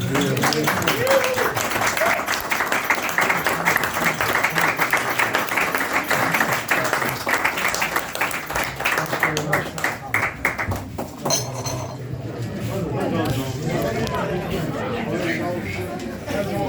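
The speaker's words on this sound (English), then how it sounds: "give a thundering round of applause to Grogans for their generosity to the arts" An audience at an art gallery show gives a round of applause. The clapping is dense and sustained, mixed with chatter and crowd murmur, then fades into talk and babble near the end.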